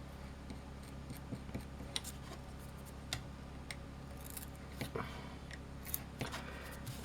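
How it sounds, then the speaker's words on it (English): Scissors trim a paper function key overlay for a Tatung Einstein computer in a quiet room, giving several faint, scattered snips against a low background hum. "Okay, oh, just a tiny little bit to trim off there."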